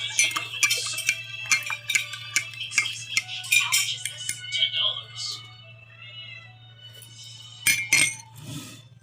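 A metal spoon stirs a cup of coffee, giving a series of bright, irregular clinks against the cup, some close together and some spaced apart, with a faint steady hum underneath and some voice nearby.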